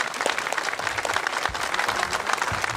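An audience applauds vigorously during a chairman's thank-you speech at an association event, a dense continuous wash of clapping with a few faint voices in the crowd.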